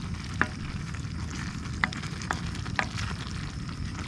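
Curry noodles cooking in a worn Teflon pan on an overnight fishing trip, giving a steady, soft frying hiss with a few faint clicks and pops. No voices are heard.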